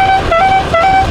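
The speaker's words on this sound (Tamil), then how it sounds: "ஹார்ன் வச்சோம்ல" A horn on a homemade mini bike, built like a miniature Royal Enfield with a scooter engine, gives two loud, close, bright honks in quick succession.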